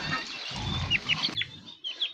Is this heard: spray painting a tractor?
no